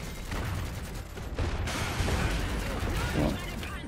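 Explosions and gunfire in the video game Iron Harvest: dense, rumbling bursts and crackling shots in a continuous barrage, with a sharp break midway and mechanical clatter throughout.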